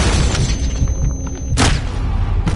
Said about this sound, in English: Hear a grenade?